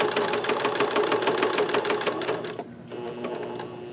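Sewing machine stitching through canvas for a journal cover, a fast, loud, even needle chatter that stops briefly and then starts again at a lower, quieter hum for the back-and-forth stitch, no talking.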